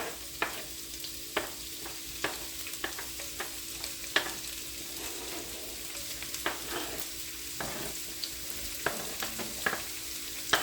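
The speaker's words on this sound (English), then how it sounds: "We're just going to saute these for about 5 minutes until they're just tender." Swiss chard stems, red onion and garlic sautéing in two tablespoons of oil, a soft continuous sizzle with frequent small pops and crackles scattered throughout.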